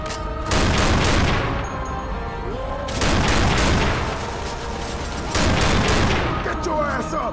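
Rapid bursts of gunfire in Left 4 Dead 2, loud and dense, arriving in three sustained volleys with booming impacts, while players shout over the shooting.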